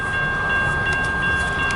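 A CN westbound mixed manifest freight train rolls past at steady volume, a continuous rumble of moving cars with faint tonal squeal and occasional light clunks, no voices.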